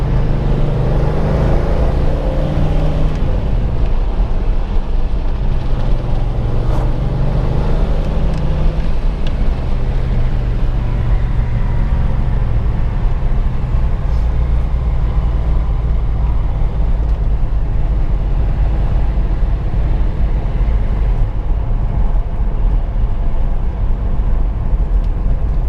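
A 1970 Chevrolet Chevelle SS454 with the LS5 V8 and four-speed manual drives along with a loud, steady low engine rumble and road noise filling the cabin, the note shifting slightly as it changes speed.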